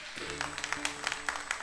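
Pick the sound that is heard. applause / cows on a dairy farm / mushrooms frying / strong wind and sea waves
applause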